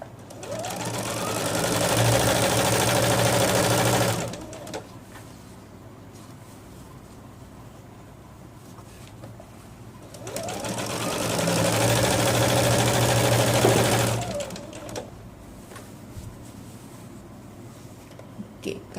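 A sewing machine stitching elastic into palazzo trousers, running in two steady bursts of about four seconds each, separated by a quieter pause, close and clear with no talking.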